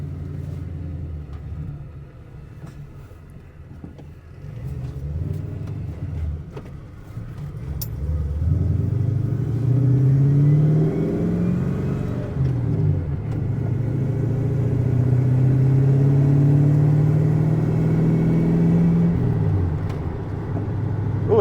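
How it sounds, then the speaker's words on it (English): A truck with a Flowmaster exhaust drones while driving, its low, tinny rumble swelling as the engine revs up and eases off, heard steadily from inside the cab. "It's got that tinny Flowmaster sound, I can tell already."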